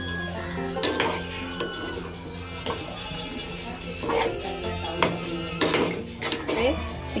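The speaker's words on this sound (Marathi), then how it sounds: "साखर घातले ना चांगली मेळ झाली आहे ढवळून घेऊया" A spoon stirs mango sheera with sugar in a pan, giving repeated close metal scrapes and clinks at an uneven rhythm, with background noise throughout.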